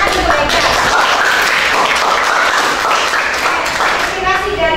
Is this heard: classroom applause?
yes